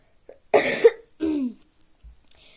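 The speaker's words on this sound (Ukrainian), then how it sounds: "Я дуже сильно захрипла і постійно кашляю." Two or three harsh, close coughs in quick succession, separated by brief quiet, from a hoarse woman.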